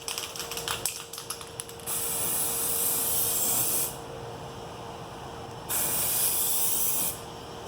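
A sanded, foggy car headlamp gets coated from a spray can in two long, even bursts of hissing spray, close and fairly loud, separated by short pauses and preceded by light tapping.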